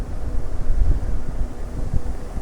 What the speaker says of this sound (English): the wind makes it a bit chilly